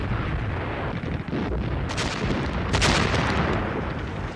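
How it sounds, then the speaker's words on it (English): German artillery shelling the beaches at Dunkirk: a dense, continuous roar of distant gunfire and explosions, with heavier booming swells around the middle and latter part, no talk. "From the shore came the shells of the German artillery."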